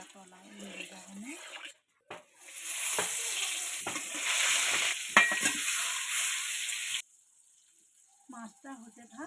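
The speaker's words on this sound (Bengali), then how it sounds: "মাছটা হতে থাক, ভাজা হোক" Fish sizzles loudly in hot oil in a pan for several seconds, with stirring sounds, a short silent gap before it, and quieter kitchen clatter and talk at either end.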